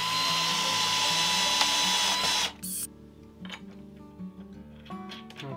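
A power drill whines loudly and steadily while driving screws into a cabinet inside a van, then cuts off, leaving a few scattered clicks and light handling knocks.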